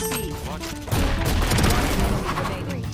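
Rapid pistol fire from the Frenzy sidearm in the shooter game Valorant, a dense loud burst of shots crackling for about two seconds amid game sound effects.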